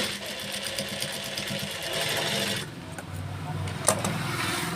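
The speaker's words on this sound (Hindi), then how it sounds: "यहाँ पर हम इसे सिलाई लगा देंगे" A sewing machine runs in steady rapid bursts, stitching a blouse seam. It whirs at moderate loudness for a few seconds, then pauses before starting up again, with a voice talking nearby.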